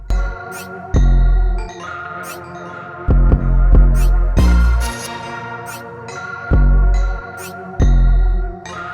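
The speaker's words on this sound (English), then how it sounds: "I'm gonna start by setting my bald line in using my Babyliss FX trimmers" Babyliss FX hair trimmers buzz up close while setting a bald line in a taper haircut, a steady humming drone that swells and cuts out in repeated bursts as the blade works the neckline.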